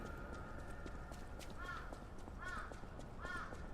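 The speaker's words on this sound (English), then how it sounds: "The crow's laughing at me." A crow in the Lies of P action game gives three harsh caws at a steady pace over a constant background hum. The calls are moderately close and come with no speech.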